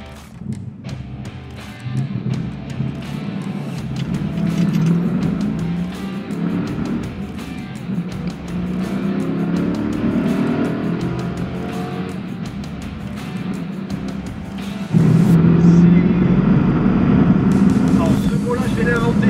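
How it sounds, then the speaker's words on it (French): A 1963 Ford Mustang's V8 drives along with a steady, loud engine drone that swells noticeably louder and deeper near the end. "Le V8 a un son qui est incomparable."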